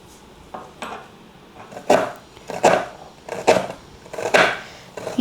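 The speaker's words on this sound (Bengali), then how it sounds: "পেঁয়াজগুলো কুচিয়ে নিচ্ছি।" Onions being chopped with a knife on a board for a bitter gourd mash, a series of sharp, uneven chops with pauses between bursts, close and fairly loud, no talking.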